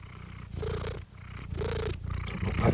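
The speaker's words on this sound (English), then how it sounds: "Certainly got the loudest purr, that's for sure." A cat purring loudly and close, a rumbling purr in steady rhythmic cycles of inhale and exhale, alone with no talk.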